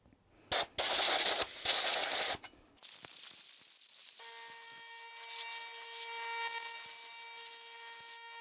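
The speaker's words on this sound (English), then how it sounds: "I'm just going to blow the lint out, the dust and the grime" Loud bursts of compressed air blast lint and dust out of a 1974 Singer Genie 354 sewing machine, three hissing sprays close up, followed by quieter handling sounds and a steady electrical whine.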